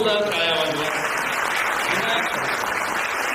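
An audience at a church's 200th anniversary celebration in Thane breaks into loud, continuous applause, with a voice briefly heard at the start before the clapping fills the space.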